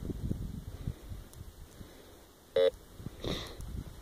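A metal detector out in a field gives a short, sharp electronic tone as it signals iron, sounding once clearly over wind and rustling, followed by a fainter, softer second tone.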